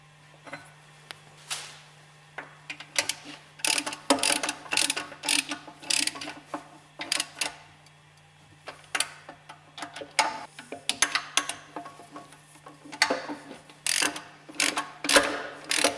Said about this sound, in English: Bolt tight the spindle with the 3 hex head screws.